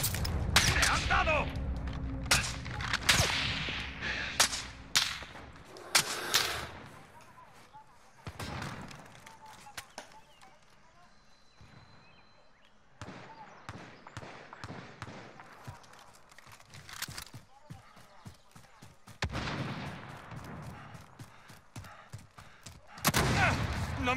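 Gunfire in a video game: loud single shots and rapid bursts come in scattered clusters with quieter gaps between them, some close and sharp, and voices can be heard between the volleys.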